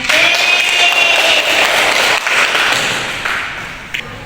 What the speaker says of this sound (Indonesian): Beri aplaus untuk temanya